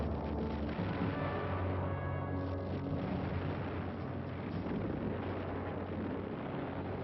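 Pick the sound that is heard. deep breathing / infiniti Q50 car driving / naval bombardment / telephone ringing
naval bombardment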